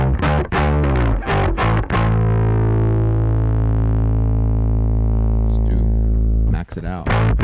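A bass guitar played through a Solodallas Bass-X overdrive pedal on the low strings: a few quick plucked notes, then one long gritty note sustaining and slowly decaying, followed by more picking.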